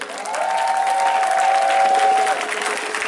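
Audience applause at a New Year worship and praise concert, a steady wash of clapping from a large crowd, loud and sustained, with a sustained tone and faint voices mixed in.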